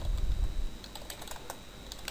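Computer keyboard keys pressed and a mouse clicked while editing in Photoshop, a few quick, crisp clicks spaced across the moment, close and quiet after a short low thump.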